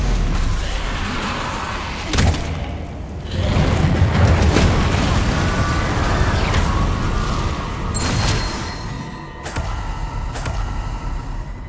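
Spell blasts from Incendio and Stupefy casts in the video game Hogwarts Legacy, loud booming bursts and crackling impacts layered over continuous battle noise, with sharp hits around the second, eighth and tenth seconds.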